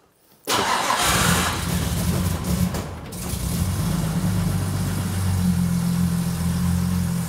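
A 1963 Jaguar E-Type running on e-fuel cranks and catches within a second, then surges before settling into a rough, throbbing idle up close.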